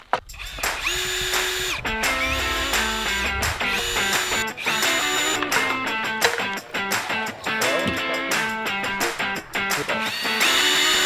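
An electric drill whines continuously at close range, its pitch shifting up and down as it speeds and slows, with clicks and knocks throughout.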